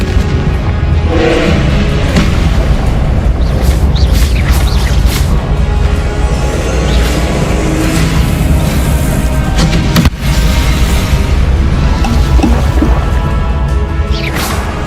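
Spell explosions from Bombarda and other combat magic in the video game Hogwarts Legacy, a dense, loud run of booming blasts and crashes with whooshes, continuous throughout with no pause.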